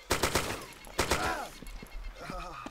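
Gunfire from a player in ARMA 2 DayZ, rapid sharp shots in quick bursts, near and loud, with a person speaking in between and over them.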